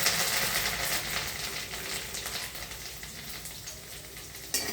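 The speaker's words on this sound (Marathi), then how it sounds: "कांदा परतून झालेला आहे" Onion sautés in a pan for stuffed ridge gourd, a dense continuous sizzle with occasional stirring scrapes, close and steady throughout.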